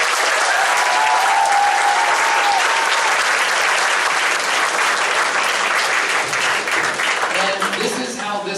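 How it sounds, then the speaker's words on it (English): Audience at an orchestra concert gives a loud, dense round of applause lasting several seconds, steady throughout and tapering slightly near the end, with a few voices mixed in. "one more round of applause for Mr. Lightshow."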